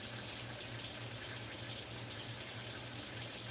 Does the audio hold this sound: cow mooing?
no